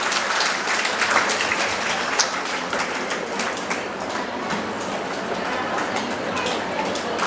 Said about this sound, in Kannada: ಜೋರಾಗಿ ಚಪ್ಪಾಳೆ ಬರಲಿ ಮಹಿಳೆಯರಿಗೆಲ್ಲ